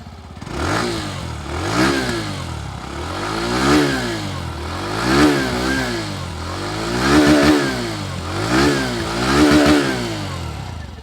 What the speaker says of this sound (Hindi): अब मैं आपको इसका एग्जॉस्ट नोट सुना देता हूँ कि बाइक का एग्जॉस्ट नोट जो है वो कैसा है।